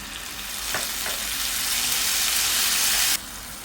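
Chopped tomato drops into a pan of frying onions for a lentil soup, giving a loud steady sizzle with broadband hiss that swells and holds, a couple of soft clacks, then cuts off abruptly near the end.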